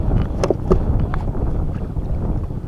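A motorboat passes near a small handline fishing boat off Bolinao, Pangasinan, its low engine drone steady and fairly close, mixed with wind noise, water sounds and a few knocks, with no speech.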